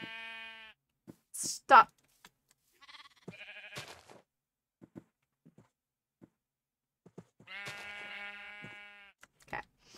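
Blocky sheep in the game Minecraft bleat in several short, wavering calls spread across the stretch, with brief clicks and a person talking in between.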